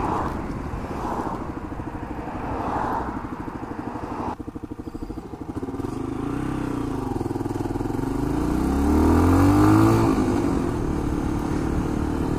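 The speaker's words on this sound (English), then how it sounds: "this exhaust is getting way too loud" A motorcycle with a loud exhaust that is starting to blow runs steadily on a road during a UK CBT riding ride, a constant close engine drone that rises in pitch as it accelerates toward the end, with no voice heard.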